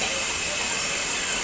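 Steam locomotive 45407 Lancashire Fusilier on the Jacobite line releases a loud, continuous broadband hiss of steam close by, steady and unbroken throughout.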